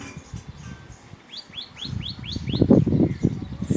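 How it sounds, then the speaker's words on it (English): A bird chirping outdoors on a fine morning, a series of six or so rising tweets in even rhythm, clear and fairly close, with rustling and louder low background noise building toward the end. "see this bird."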